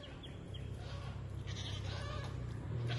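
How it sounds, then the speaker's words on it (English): Farm goats bleat as they approach after being called, a few short bleats over a steady low background rumble, fairly distant at first and growing busier toward the end. "So we'll see where the goats are."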